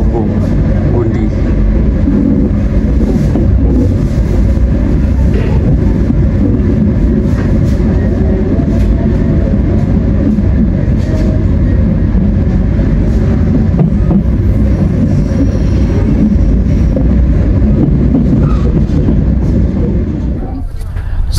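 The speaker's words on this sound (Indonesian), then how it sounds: "kereta api Banyu Biru berhenti di stasiun Alas Tua" Banyubiru passenger train pulling into Alas Tua station in Central Java, a steady loud rumble of rolling cars and wheels heard from inside, continuous throughout and easing slightly at the end, with talk mixed in.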